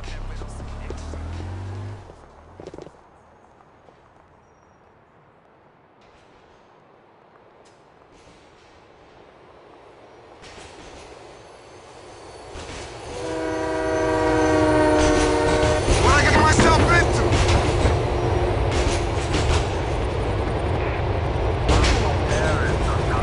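A train in Grand Theft Auto IV rumbles closer and roars past with a blaring horn and rattling wheels, building from a quiet stretch to a loud sustained passage.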